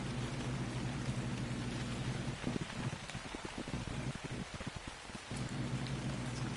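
Steady rain in a video game, a broad continuous hiss with a low rumble underneath that briefly thins out midway, no voices.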